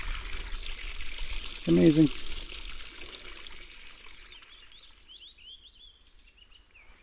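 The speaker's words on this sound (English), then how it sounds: "there's water coming out of the ground" Water from a mountain spring high in the Catskills trickles steadily and softly, with a brief spoken word over it and faint bird chirps toward the end.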